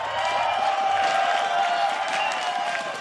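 At a live League of Championship Series esports match between 100 Thieves and Team Liquid, an arena crowd cheers and applauds in a loud, sustained roar of clapping and voices.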